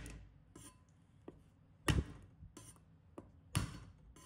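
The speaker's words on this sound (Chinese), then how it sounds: "把大蒜拍碎" Garlic cloves are smashed with a flat cleaver on a board: several sharp thuds, about four heavy whacks with lighter taps between, close and distinct with no talking.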